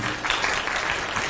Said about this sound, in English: You don't have to clap that rather anemic answer.